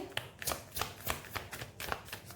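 Tarot cards being shuffled and drawn, giving a rhythmic run of soft riffling slaps about every quarter second, close and quiet, with no talk.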